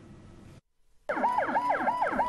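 An ambulance siren wails in a repeating rising-and-falling pattern, loud and close, beginning abruptly after a short silence that follows a stretch of other background noise.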